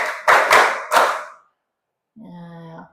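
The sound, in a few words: students clapping five times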